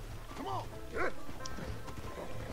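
A dog in the Red Dead Redemption video game gives two short, high barks early on against a steady bed of game ambience and hoofbeat-like clatter.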